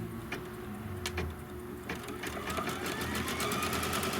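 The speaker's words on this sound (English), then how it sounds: "it's going to sew the trim line over on the other side." An embroidery sewing machine stitches a trim line, giving a fast, steady mechanical whir with rhythmic needle clatter and a few sharp clicks, close and continuous.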